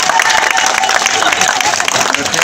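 A crowd claps for a young boy at a public gathering, with a dense, steady patter of applause filling the whole stretch and some voices mixed in.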